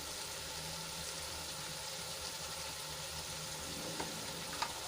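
Chilies and tomatoes sauteing with chili powder, garam masala, coriander-cumin powder and salt in a pan for a Kathiyawadi eggplant and pea curry, giving a soft, steady sizzle with a couple of faint utensil clinks near the end.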